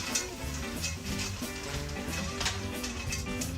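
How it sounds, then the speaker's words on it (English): Garlic, peas and carrots sizzle in a pan while being stirred for a crawfish pie, with a steady frying hiss and light rhythmic scraping under a background of music-like tones. "We're going to add our peas and carrots. Stir that around."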